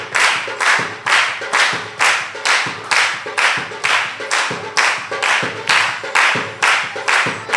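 A church congregation claps in steady unison to welcome pastors being garlanded, a loud, even beat of sharp claps repeating about every two-thirds of a second throughout, with no voices.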